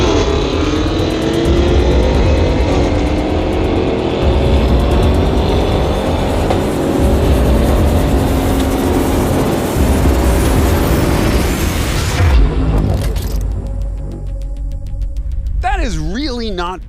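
A Range Rover drag racing against a Ford Raptor R roars hard under acceleration, a loud sustained engine note that climbs through gears, then cuts off abruptly near the end as other sounds take over.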